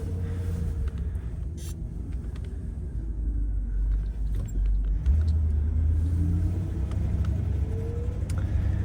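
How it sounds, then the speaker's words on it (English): Low, steady engine rumble and road noise from a 1960 Cadillac Series 75 limousine heard from inside while driving, with a slight swell in the low drone partway through. "the sounds of both the driver controls and the engine noise while we're driving."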